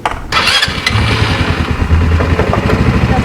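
A brand-new ATV engine runs close by, a loud, steady mid-pitched throbbing rumble right after start-up, with no talk over it.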